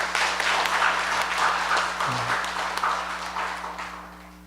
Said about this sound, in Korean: 우리 청년들 박수로 한번 격려합시다.